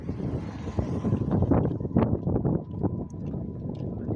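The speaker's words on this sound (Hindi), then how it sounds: "बहुत ज़्यादा तेज़ हवा चलने लग गई है।" Strong wind roars and buffets the microphone in a continuous, loud rumble with gusting bursts throughout, outdoors on a walking pilgrimage to Ramdevra.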